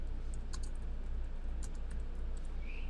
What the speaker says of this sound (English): then type in a name for your file